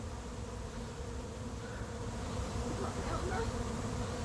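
A swarm of bees flies toward a red hive outdoors. A dense, steady buzzing hum fills the whole stretch at moderate distance, with faint speech barely present beneath it.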